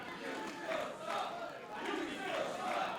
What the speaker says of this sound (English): The crowd giving MJF the business.